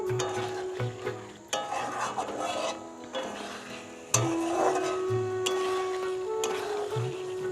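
A spatula stirs fried paneer cubes around a hot pan, giving repeated scraping and rubbing strokes with soft sizzling beneath, close and moderately quiet.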